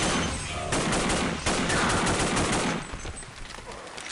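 Rapid automatic gunfire from a Stargate SG-1 total-conversion game mod, dense, loud and close, running in sustained bursts that thin out toward the end, with no talk over it.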